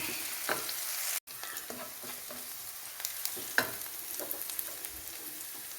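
Quiet sizzling and frying of chicken in a pan with sautéed vegetables and onion for chicken noodles, with scattered spatula scrapes and stirring clicks over a steady soft hiss.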